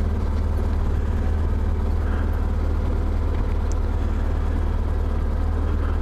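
Steady low engine rumble of a Transit van being driven, a continuous drone that holds evenly throughout without any talk over it.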